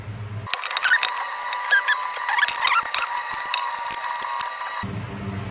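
A brake caliper piston on a Honda Passport being pushed back in during front brake pad replacement, giving a steady close mechanical ratcheting and creaking for several seconds with no talk.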